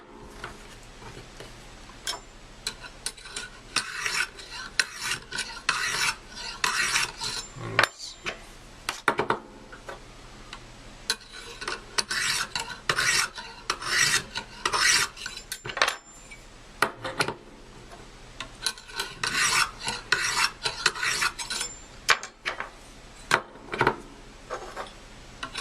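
Habilis Bushtools Pathfinder trade knife swiped repeatedly across a sharpener, a series of bright metallic scraping strokes in uneven bursts with short pauses, close and fairly loud.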